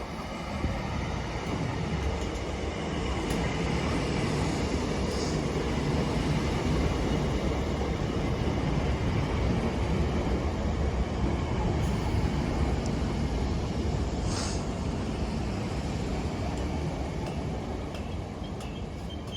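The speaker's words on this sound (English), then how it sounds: "Arriving now is the 1001 Scotrail service from Cumbernauld to Dalmuir." Scotrail class 318 electric multiple unit arriving at Blantyre station on the Cumbernauld to Dalmuir service, a steady broadband rumble of wheels and motors that holds loud and even for the whole span, with no voices.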